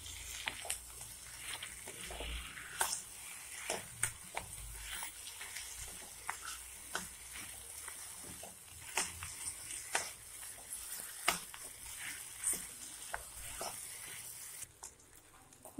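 Mashed potato being stirred and fried together with fried onions in a pan, a steady soft sizzle broken by frequent scraping and tapping clicks from the spoon, close up, with no voices.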